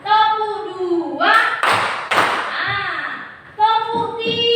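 In a classroom, a group of children claps in unison twice, sharp broadband claps between sustained sing-song children's voices.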